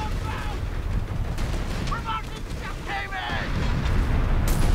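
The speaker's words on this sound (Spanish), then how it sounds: "Disparando." Bursts of battlefield gunfire in Company of Heroes 3, with Sherman and Hellcat units in play, crackle in repeated short volleys over a dense rumbling backdrop, while a voice talks over it.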